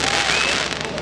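A night fireworks display at a state-level kabaddi tournament produces a short, dense burst of crackling and popping that blends into a continuous roar.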